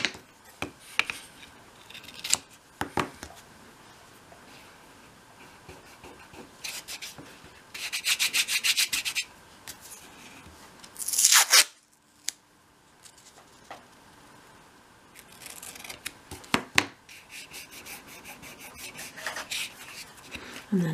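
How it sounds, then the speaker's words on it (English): Masking tape unrolled and pressed across a dolls house mirror frame, with scratchy rubbing bursts and a couple of sharp tearing rips between quieter handling sounds, close and without speech. "So I'm putting some masking tape across here now."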